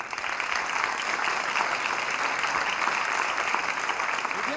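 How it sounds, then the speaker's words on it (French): Sustained, loud applause from an evening award ceremony audience at the Alfers 2022 Prix du Coeur, a dense continuous clatter of many hands clapping with no voices. "je propose qu'on l'applaudisse."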